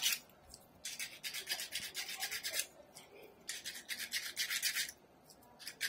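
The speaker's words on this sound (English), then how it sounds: "I'm going to get my metal file. I'm going to scuff this" A metal file scuffs a brass rod in repeated rasping strokes, bursts of gritty scraping separated by short pauses, close and fairly quiet, with no talking.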